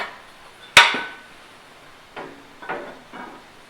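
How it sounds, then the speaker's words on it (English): A work rest is pulled off a 2x72 belt sander used as a knife grinder. There is one sharp metallic clank, then a few softer knocks and clunks as the part is handled. "Let me remove my work rest."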